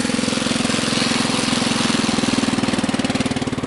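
A Husky 600 small engine runs close by with a fast, even putter, idling steadily for a few seconds with no voices.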